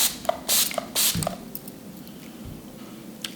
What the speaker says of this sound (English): Last, we're gonna spray the face with MAC's Fix Plus.